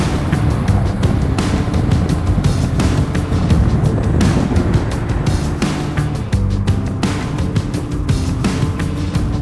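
Wind buffeting a camera gimbal held out of a moving car's window, a loud, steady broadband roar with constant gusting turbulence throughout.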